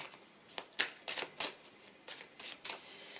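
Tarot cards are handled and cut on a table in a series of soft, crisp papery riffles and slaps, about a dozen quick bursts spread over a few seconds, close and fairly quiet.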